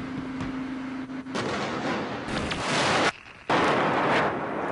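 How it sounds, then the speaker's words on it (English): American tank gun firing in a city during the Iraq War, delivering heavy booming blasts with loud broadband bursts and a sharp cut-off, no voices. "American tanks opened fire and hit this balcony"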